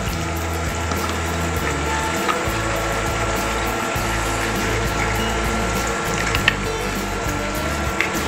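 Water drains from payasam through a fine strainer, a steady close-up trickling and running flow with a constant low rumble and occasional small clinks.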